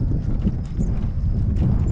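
A horse walks lazily in gale-force wind, its soft hoofbeats buried under heavy, rumbling wind buffeting the microphone throughout this short moment.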